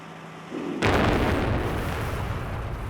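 A blasting charge goes off during construction of an alpine tunnel, a sudden heavy boom that follows a low rumble, then a long rolling roar that fades slowly.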